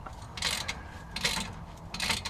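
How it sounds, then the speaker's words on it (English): A ratchet wrench with a long 15 mm socket tightens a bolt on a Borla exhaust fitted to an SRT8 Jeep, giving three short bursts of rapid clicking, close and moderately loud. "we'll come back with the longer 15 millimeter and tighten it down"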